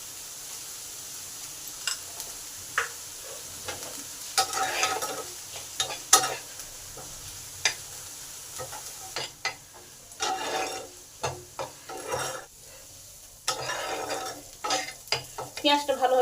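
Salted onions fry in a pan with a steady sizzle as a spatula scrapes and stirs them in repeated strokes, the scraping growing busier toward the end.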